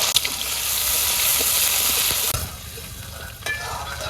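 Prawns fry in hot oil in a wok, a loud, dense sizzle with stirring clatter, easing off about halfway through to a softer crackle broken by a few sharp utensil knocks.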